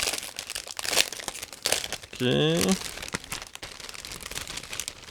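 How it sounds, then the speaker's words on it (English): A resealable plastic bag of 1/35 scale model kit parts is pulled open with crinkling and a short zipper-like rasp, close up, with brief speech around it. "this is a resealable plastic bag, so I'm going to open it right now"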